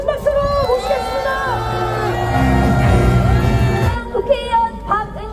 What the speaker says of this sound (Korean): 조국혁신당 박은정 의원님을 큰 박수로 모시겠습니다.